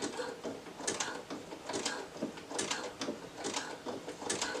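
A sewing machine runs slowly through thick layered fabric while sewing a zigzag stitch for a headband, giving a steady mechanical clatter in repeated short bursts, close and fairly quiet.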